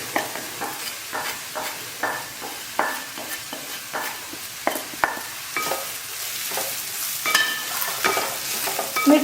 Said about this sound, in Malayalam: എന്നിട്ടിനി ഇതിൻ്റെ പച്ചമണം മാറുന്ന നന്നായിട്ടിങ്ങനെ വഴറ്റി കൊടുക്കും